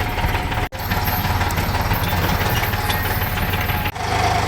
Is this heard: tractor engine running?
yes